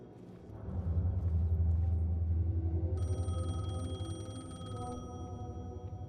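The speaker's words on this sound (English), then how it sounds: "The payphone was ringing." A payphone rings in the game Alan Wake II, a bright repeating electronic bell tone entering partway through over a low rumbling ambient drone.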